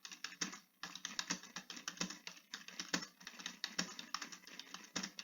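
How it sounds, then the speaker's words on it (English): A computer keyboard is typed on in quick, uneven bursts of crisp clicks at close range, fairly quiet, with brief pauses and no talk. "Okay, and you can keep typing."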